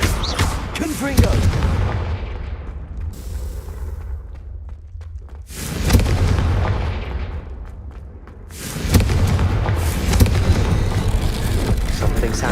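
Booming Confringo spell explosions from the Hogwarts Legacy video game burst in three heavy, sustained waves with crackling debris between them.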